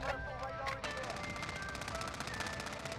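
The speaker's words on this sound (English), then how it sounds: "all I need is 9 long shots with the FAMAS" FAMAS rifle fire in a first-person shooter video game, a fast, steady stream of rapid shots that carries on through the whole stretch, dense and continuous under a low game background.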